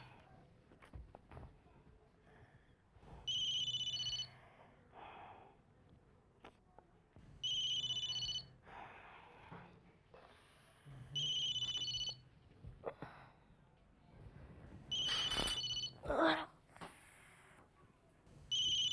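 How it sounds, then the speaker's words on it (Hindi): A mobile phone rings in repeated bursts, four evenly spaced electronic ring tones a few seconds apart, moderately loud over a quiet room with faint movement between rings. "देखो तुम्हारा मोबाइल कब से बज रहा है।"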